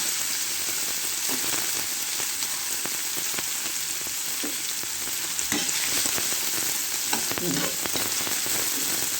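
Chopped tomato frying in a pan with carrot and potato, a loud steady sizzle throughout with occasional stirring scrapes, no voices.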